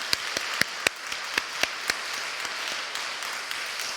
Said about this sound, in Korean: 지금 이 순간에 하나님께 영광의 박수 함께 올려드렸으면 좋겠습니다